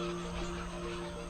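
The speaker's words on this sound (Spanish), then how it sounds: "flamencos americanos" A flock of American flamingos on a Yucatán lagoon, their honking goose-like calls blending into a continuous noisy chorus of steady loudness.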